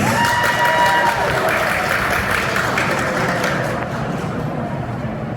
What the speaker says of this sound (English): please, give her a round of applause for Miss Stephanie Jones-Stebbins.